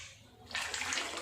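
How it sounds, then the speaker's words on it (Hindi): Water poured into a pan of roasted rice for Sindhi sweet rice, a steady close rushing splash that starts abruptly partway through and continues to the end. "अभी हम इसमें पानी डालेंगे।"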